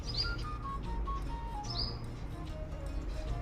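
A small bird chirps near its nest, several short bright tweets spaced across the moment over a steady outdoor background hum, fairly close and with no talk.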